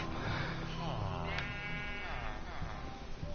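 Sheep in a Minecraft world bleat in a wavering, nasal series that sits just under a steady game hum, the bleats close and fairly loud as they repeat over a few seconds.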